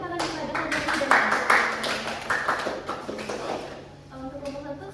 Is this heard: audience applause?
yes